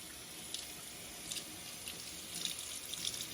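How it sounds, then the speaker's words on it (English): Water streams out of the holes of a dishwasher spray arm with a steady hiss and splashing spray, fairly close and uninterrupted, with no talking. "make sure that all these holes are, water's coming out"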